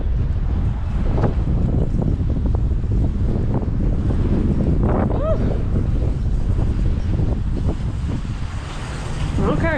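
Strong wind gusts buffet the microphone outdoors in front of a shop in Cape Girardeau, Missouri, producing a loud, steady broadband roar with brief bits of voice underneath.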